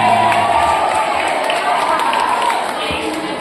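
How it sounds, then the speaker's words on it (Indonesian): Crowd of students at a school Isra Mi'raj commemoration applauding and cheering, a loud, continuous wash of clapping, shouts and children's voices heard throughout. "tepuk tangan dulu."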